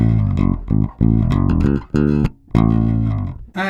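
Electric bass guitar playing a funky clavinet keyboard line, a close, loud run of punchy low notes in short choppy phrases with brief gaps between them, no voices.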